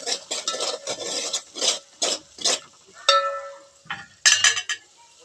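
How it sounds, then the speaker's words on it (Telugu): Ginger-garlic paste is stirred in a cooking pan for a broad bean curry, giving repeated close scraping and clinking strokes in an uneven rhythm, with no voices. "అల్లం పేస్ట్ కూడా పచ్చివాసన పోయేంత వరకు కలుపుకోవాలి"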